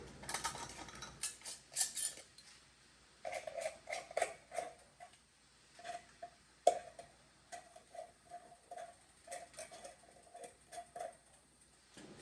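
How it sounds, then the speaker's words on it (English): Metal lids are finger-tightened onto glass jars of pomegranate jelly one after another, with soft scraping twists and light clinks repeating in quick, uneven bursts. "I'm going to go ahead and just finger tighten all of them down."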